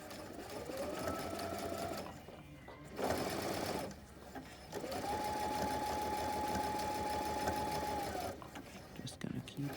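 A sewing machine stitches a blind hem along a fabric edge in long, steady runs with brief pauses between them, the whir holding a constant pitch.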